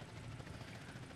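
A helicopter in the multiplayer game SAMP gives off a steady, muffled rotor drone, faint and continuous with no voices.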